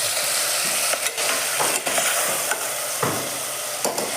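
Fenugreek seeds crackle and sizzle in a hot pan for kichadi, a dense, loud frying hiss with occasional stirring scrapes and pops close by.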